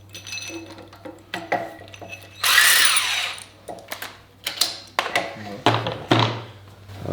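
A harmonic balancer is pulled off a Chrysler 360 LA small block V8 with a puller. A power tool whirs in one loud burst, with scattered metallic clinks, ratcheting and clunks around it over a low steady hum.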